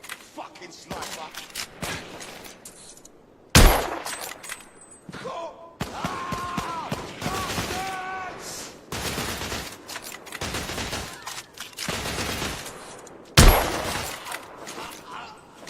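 Gunfire in the video game The Order: 1886 on PS5, with loud sharp shots cracking at intervals amid a busy battle mix, some bursts standing out strongly while voices shout in between.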